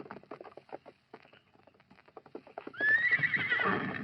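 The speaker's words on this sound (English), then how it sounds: "I'll tie his horse to that sapling." Several horses clip-clop in an irregular patter of hooves, then one horse lets out a loud, close whinny that carries to the end.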